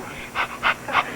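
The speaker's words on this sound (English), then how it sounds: "And then you start panting." Quick rhythmic panting breaths, three or four short bursts about a quarter second apart, close and fairly soft, with no talking.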